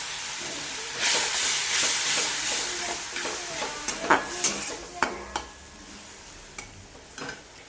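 Water poured into a hot pan of frying potatoes bursts into a hissing sizzle, followed by clattering stirring strokes and sharp scrapes that grow sparser as the steam fades.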